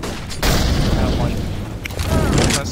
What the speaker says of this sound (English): Going flashbang.